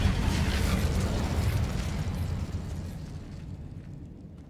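An Incendio fire spell cast in the Hogwarts Legacy video game erupts as a loud, rumbling burst of flame that rolls on and slowly fades out over a few seconds.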